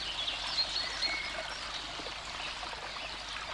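A small stream flows over its bed, a soft continuous burble and trickle, fairly faint, with a few faint bird chirps.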